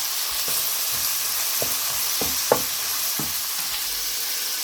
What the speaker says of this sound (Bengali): আদা রসুনের পেস্ট দিলাম 2 টেবিল চামচ